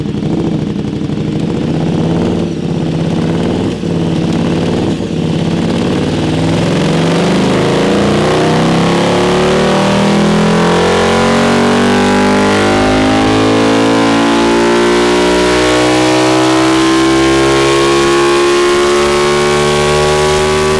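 A KTM Superduke 1290 motorcycle engine revving hard on a dyno during tuning, climbing steadily in a long, very loud full-throttle pull after a few short blips, with harmonics sweeping upward and no voices.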